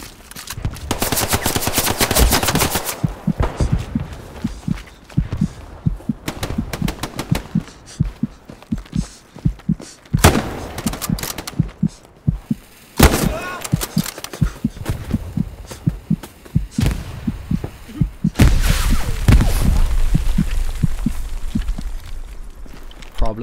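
Gunfire in the video game Hell Let Loose: rapid machine-gun bursts and single shots crack in irregular clusters, some close and loud, others further off, with several dense volleys throughout.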